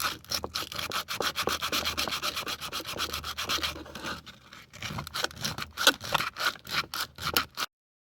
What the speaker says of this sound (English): we're going to sand all this down to get rid of this crack.